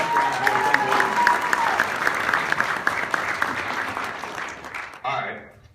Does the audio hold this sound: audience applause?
yes